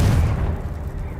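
A Confringo blasting spell explosion in Hogwarts Legacy, a single loud, deep boom with a heavy low-end thump that quickly decays into a rumbling tail.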